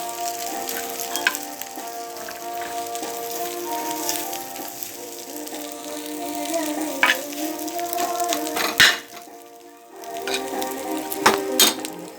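Food frying in a pan is stirred, with a constant close sizzle, scraping and knocking of the spoon over it, and a brief pause near the end before the sizzle returns.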